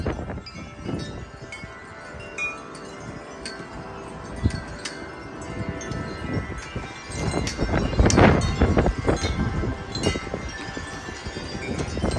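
Strong gusting wind rushes through a backyard, buffeting the microphone with loud, continuous roaring that swells into heavier bursts midway, with rustling and knocking of loose objects.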